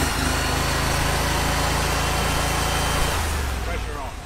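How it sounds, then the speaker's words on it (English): A Panther water jetter engine idles steadily and loudly, then its tone drops slightly near the end as the pump stops spinning and the engine settles back to idle. "when it goes back to idle, pump stops spinning, engine goes back to idle"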